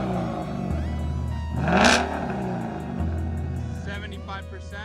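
A 2019 Mustang GT fitted with a Borla Atak exhaust, valves closed, idles with a deep steady rumble, then revs once in a rising, swelling burst before settling back to idle.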